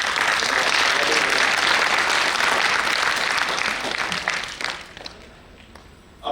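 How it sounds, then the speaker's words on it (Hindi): Sustained applause from a comedy and poetry show audience, dense clapping that holds steady for a few seconds, then thins out and fades to scattered claps. "इतनी अच्छी सुरीली आवाज के लिए इतनी कम तालियां"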